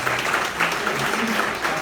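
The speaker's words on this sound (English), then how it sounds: "give yourselves a round of applause" Dinner audience at an event in Holmdel, New Jersey breaking into applause, a steady, dense wash of clapping filling the room with some voices mixed underneath.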